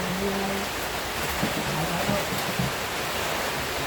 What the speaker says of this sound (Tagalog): sabi ko ulan na ay